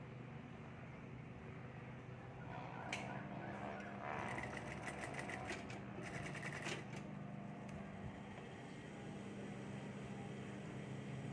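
A sewing machine runs steadily and fairly faint, stitching along an original seam of a garment, with light clicks and fabric handling over the hum.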